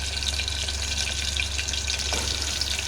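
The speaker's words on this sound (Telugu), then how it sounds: "ఆయిల్ వేడయ్యాక మనం ముందుగా కట్ చేసి పెట్టుకున్న ఉల్లిపాయ ముక్కలు వేసుకున్నాము" Chopped onion pieces fry in hot oil, giving a close, continuous hiss and crackle that stays steady from start to finish without pause.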